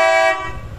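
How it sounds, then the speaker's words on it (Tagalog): A single short, loud horn toot from a Kymco Xciting S400i motor scooter, cutting off abruptly and leaving a low engine rumble. "Yung busina nito, malakas"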